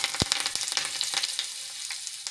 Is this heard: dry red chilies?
yes